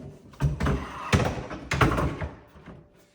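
A wooden drawer slides into a bottom cabinet that is being converted to pullout drawers, making three close, hollow thunks and knocks spaced about half a second apart.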